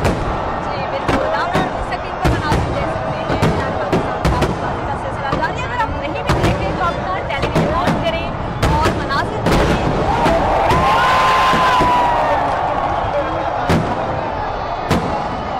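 Fireworks burst repeatedly at Minar-e-Pakistan in Lahore during Independence Day celebrations, with sharp cracks and booms over a loud, continuous crowd roar and a whistle rising near the end.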